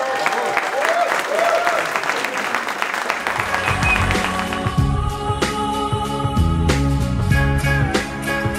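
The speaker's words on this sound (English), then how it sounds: "Et on peut les applaudir." Wedding guests clap after the couple's vows, applause mixed with voices and cheering, then music with a strong beat enters around three seconds and carries on under the fading clapping.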